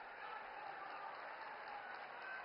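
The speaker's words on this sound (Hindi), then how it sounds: "जोरदार तालियों से मोदी जी के स्वागत में करतल ध्वनि से स्वागत कीजिए" A large crowd applauds at PM Modi's political rally in Saharanpur, a steady, even wash of clapping heard from a distance with amplified speech mixed in.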